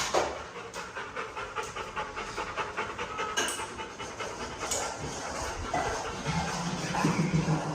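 A dog pants rapidly and steadily from start to end, close and fairly loud, with a soft breathy rhythm.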